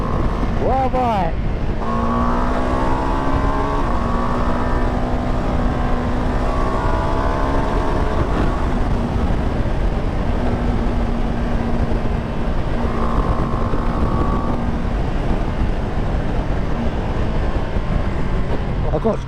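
Ducati Multistrada touring motorcycle being ridden, a steady engine drone with rising and falling revs and gear changes over constant wind rush, loud and continuous throughout.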